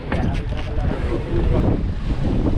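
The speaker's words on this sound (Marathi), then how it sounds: "जबरदस्त होता आज वारा जबरदस्त होता" Strong wind at sea aboard a prawn-fishing boat in deep water off Mumbai. A steady, loud roar of wind buffets the microphone, mixed with rushing water, and continues without a break throughout.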